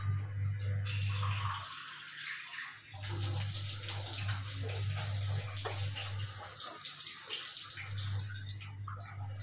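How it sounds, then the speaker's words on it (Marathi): Water is poured into leftover oil in a kadhai, a steady splashing gush broken by short pauses, close and moderately loud over a low hum, with no talking. "मी आता याच्यामध्ये पाणी टाकून घेते या तेलामध्ये"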